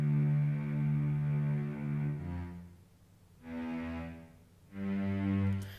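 Low-end synth notes from a channel's intro music, rebuilt in Logic Pro X, come as long, sustained deep tones in a few held phrases with brief dips between, close and alone.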